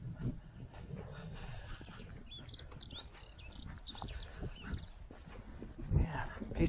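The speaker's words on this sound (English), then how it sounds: "Pretty sure that's a willow warbler." A willow warbler sings in short, bright descending phrases over a busy background of other birds, light wind and rustling at a coastal nature reserve, moderately distant and fairly faint.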